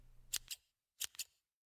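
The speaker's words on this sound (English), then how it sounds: "I put the scissors beside my ears. I break the first lock." Scissors snip through locks of hair in two close pairs of crisp, sharp cuts, up close and loud with silence between them.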